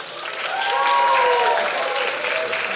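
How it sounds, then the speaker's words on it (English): Audience applause after a ballroom dance performance, dense sustained clapping from a full room with a few cheers and whistles on top. "Let's give Ballroom another round of applause."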